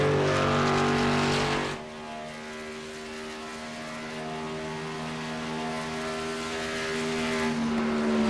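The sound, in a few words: race trucks driving past on the track, from a racing video game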